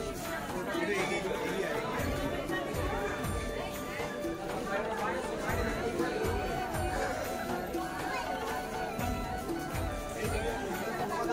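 Dense crowd chatter fills a busy metro station gate, a steady unbroken babble of many voices close by, with scattered footsteps and clatter underneath and one speaker talking over it.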